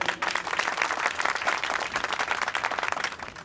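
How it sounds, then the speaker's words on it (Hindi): A crowd bursts into sustained applause after a triumphant speech in a Punjabi comedy drama setting, dense clapping filling the scene at steady moderate loudness without any voices. "तालियां!"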